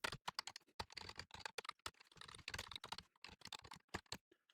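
Close, fast typing on a computer keyboard, a dense run of crisp key clicks with brief pauses, no voices.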